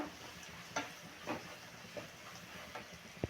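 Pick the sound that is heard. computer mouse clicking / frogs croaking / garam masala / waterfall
garam masala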